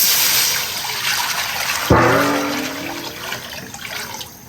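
Water is poured into a cooking pot to soak dried goji berries, tangerine peel and jujube slices for lamb offal soup. A sudden close gush starts midway and fades into a steady, softer pour.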